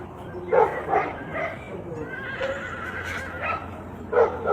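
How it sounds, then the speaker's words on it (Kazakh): Horses whinny a few times at moderate distance, short bursts with gaps between, over a quiet outdoor background. "Аттардың дауысын көрдің ба?"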